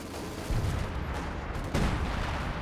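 Base artillery guns firing in the World War II strategy game Company of Heroes 2, two heavy booming shots about a second apart over a constant battle rumble, with no talking.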